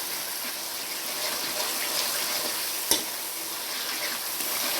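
Green chillies frying in a beef karahi give a steady, close broadband sizzle with a soft stirring scrape and one sharp clink near the middle, with no talking.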